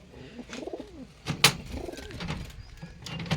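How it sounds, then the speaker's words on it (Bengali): A pair of Murshidabadi pigeons sitting on eggs coo softly and close by in low, rolling repeated phrases, with a brief sharp rustle or flap midway through and no talking. "এই যে এখানে ডিমে বসে আছে এক জোড় অরিজিনাল মুর্শিদাবাদি পায়রা"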